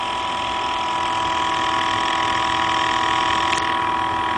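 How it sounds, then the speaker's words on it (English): An electric motor spins its rotor under load, producing a steady, close, continuous hum with a constant tonal whine and no breaks. "You'll also notice that the motor slowed down a little bit."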